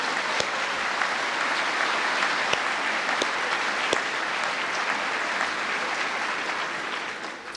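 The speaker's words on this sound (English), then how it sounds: "Yes, they deserve a clap." A large audience in a tent at the Keswick Convention applauds a couple on their silver wedding, a steady, even wash of clapping that holds throughout and fades slightly at the end.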